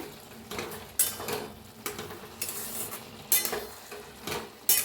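A spoon stirs a pot of cooked mixed vegetable bhaji, giving a rhythmic series of scraping and clinking strokes against the metal over a light simmering sizzle. The sound is close and there is no speech.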